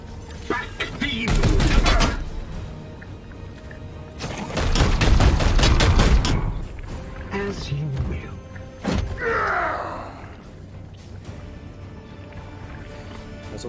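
Bursts of rapid gunfire in Warhammer 40,000: Chaos Gate – Daemonhunters, two long volleys followed by scattered single shots, with a voice talking over the action.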